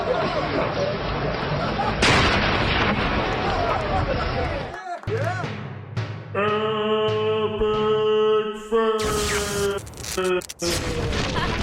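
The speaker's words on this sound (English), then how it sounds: "Here's a Chinese Army hand grenade training exercise." Explosions from hand grenades in a Chinese Army training exercise give several loud booming blasts with crowd noise, then give way to a tonal musical passage with sharp hits, under a presenter's voice.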